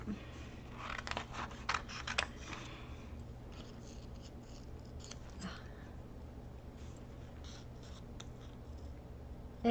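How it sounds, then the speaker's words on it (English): Close, crisp snips and rustling scrapes of scissors cutting through stiff cardstock, irregular bursts early on, then quieter handling. "Okay, and then I'm just going to cut that out."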